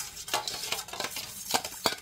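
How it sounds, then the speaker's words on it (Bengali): A spoon briskly stirs a batter of oil, water, salt and baking soda for gathiya, giving quick, close, scraping and sloshing strokes in an uneven rhythm with no talking. "এইবার এই উপকরণগুলোকে খুব ভালোভাবে মিশিয়ে নিচ্ছি।"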